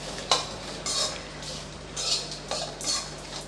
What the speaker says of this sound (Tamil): அது வரைக்கும் நல்லா இதை வதக்கி விட்டுக்கோங்க